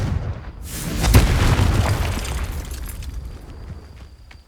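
A Confringo spell explodes in a Hogwarts video game: one deep, loud boom followed by a long rumbling decay that fades over several seconds.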